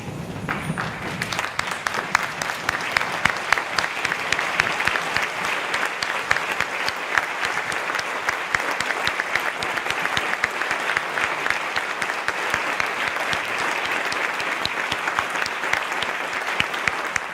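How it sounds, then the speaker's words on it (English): A standing audience at a 2018 school graduation ceremony at the Taipei European School gives the graduates a long, dense round of applause that stays loud and steady from start to finish. "Can we all stand to give our graduates a final round of applause?"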